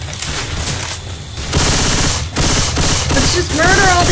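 Rapid automatic gunfire from Left 4 Dead 2 as players shoot zombies at a dark carnival: loud, dense bursts that swell after a brief lull and continue steadily, with chirping game sounds near the end.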